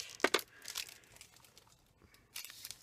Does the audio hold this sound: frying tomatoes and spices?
no